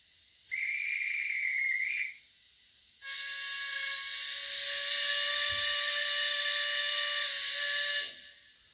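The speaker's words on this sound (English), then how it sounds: "Number five is the guard's whistle with a train whistle after." A short shrill guard's whistle blast from a Rapido Trains model Bagnall locomotive, a brief pause, then a longer, louder multi-tone train whistle sustained for about five seconds, electronic and close.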